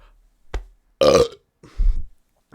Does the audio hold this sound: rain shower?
no